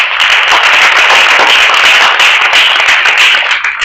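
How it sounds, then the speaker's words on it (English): A community gathering at a Baha'i Faith center celebrating the birth of Baha'u'llah breaks into loud, close applause, continuous clapping from the crowd that tapers slightly near the end. "Give yourself a round of applause."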